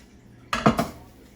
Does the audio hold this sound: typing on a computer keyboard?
no